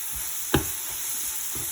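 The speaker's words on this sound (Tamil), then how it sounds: "அது ஃபுல்லாக அந்த ரம்பையில் அந்த வெங்காயத்தோடு சேர்ந்து ஃப்ரை ஆகுது பாருங்க" Onions fry with pandan leaf in a pan for a drumstick biryani. The sizzle is soft and steady, with a sharp stir or scrape near the middle and faint stirring knocks, and no one talks.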